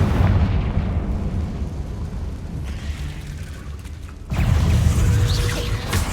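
Confringo blasting spell explosions in the game Hogwarts Legacy, dense rumbling blasts that sustain loudly, dip briefly, then surge again with a fresh heavy burst.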